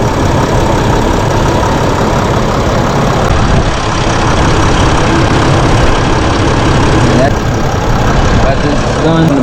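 A Mercedes Sprinter van's 907/642 engine idles steadily after a radiator fan hub replacement, a continuous broadband mechanical drone with no rattle, loud and close throughout.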